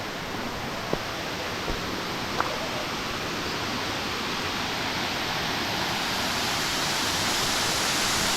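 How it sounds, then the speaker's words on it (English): A mountain waterfall fed by spring water and rain roars continuously, a dense, steady rush heard close by from the top of the falls, with a few faint clicks and no voices. "We're at the top of the waterfall."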